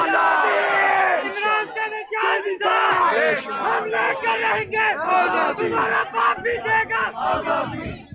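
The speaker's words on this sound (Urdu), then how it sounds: "یہ جو نعرے لگا رہے ہیں" A large crowd of PTI workers at Zaman Park in Lahore chanting political slogans in loud rhythmic bursts, with voices rising and falling in repeated waves.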